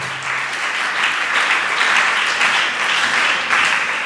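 A church congregation applauds during an Easter seminar, a sustained, even wave of clapping from many hands that swells slightly and carries on steadily.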